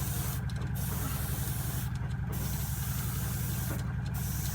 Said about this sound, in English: I'm using short bursts of the airbrush as I don't want any tip dry